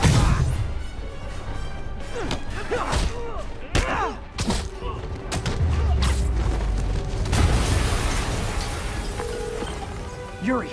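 Explosion in the Spider-Man PS4 video game: a string of heavy booms, crashes and thuds over about ten seconds, loud and close, with game music and effects layered underneath.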